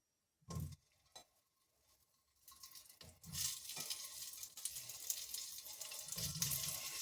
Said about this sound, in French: Je vais en mettre un peu plus d'eau.